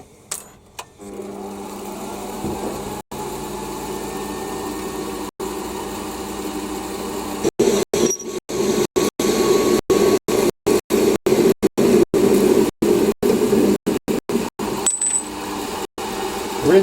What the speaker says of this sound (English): Clamp him in the chuck at 70 and part him off